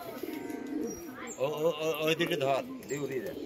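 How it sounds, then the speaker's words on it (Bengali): Pigeons coo softly close by, a few low warbling calls mixed with people talking nearby. "এই যে দেখুন এই পায়রা দুটো দেখুন"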